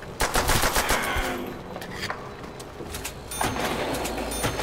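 Rapid bursts of gunfire from World at War Zombies crackle in quick clusters, loud and close, with a short lull before another volley.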